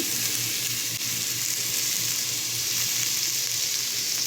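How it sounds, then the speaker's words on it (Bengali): Chopped garlic frying in a pan with oil, a steady close sizzle with a constant bright hiss throughout and a soft low hum beneath, no voices. "দিয়ে দিচ্ছি আমি রসুন কুচি"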